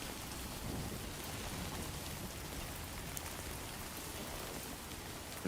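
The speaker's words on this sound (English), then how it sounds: "If all it's going to do is just rain, then that's fine." Steady, dense video game rainfall pattering on surfaces, a constant hiss of drops with no voices, holding an even level throughout.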